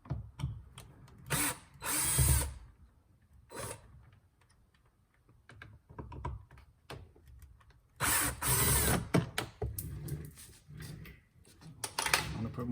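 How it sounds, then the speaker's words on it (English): A battery-powered ratchet backs screws out of an Acura TL passenger door panel in short whirring bursts separated by quiet pauses and small clicks of handling. "Now I'm going to use my battery powered ratchet."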